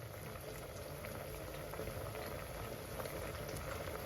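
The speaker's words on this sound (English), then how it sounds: "It's boiling now. We are boiling." Damsons boil in a pot of water with a steady, dense bubbling hiss and gurgle that stays close and even throughout, with no voices over it.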